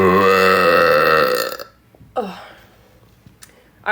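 A long, loud, deep burp with a strong resonant tone that fades out after about a second and a half, followed by a quieter short burp and faint breathy sounds.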